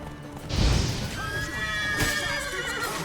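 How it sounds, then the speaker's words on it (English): Horses neigh in the video game Witcher 3: Wild Hunt, a loud, close whinny with a rising, wavering call and a second shorter whinny following, over a low rumbling game background. "Oh, all of y'all are on horses."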